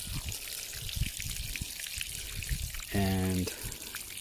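Water poured onto garden soil while planting a tomato, a soft trickling and dribbling under steady talk, with a brief louder splash near the end.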